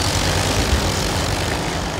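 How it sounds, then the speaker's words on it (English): Tractors reverse during a tractor square dance at a county 4-H fair, their engines giving a steady, loud, low droning rumble close by without a break. "let's reverse those tractors now"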